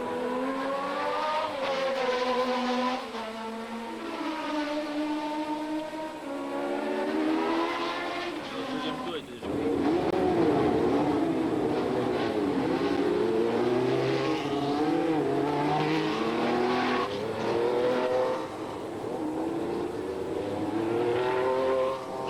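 1976 Formula One cars race at the Mosport circuit, a pack of engines screaming loudly and continuously as they climb and drop in pitch through gear changes, some cars close and others farther off.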